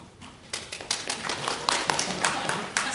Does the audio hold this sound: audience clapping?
yes